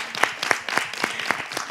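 Audience members clap together in a steady rhythmic beat, roughly four claps a second, moderately close and without talk over it.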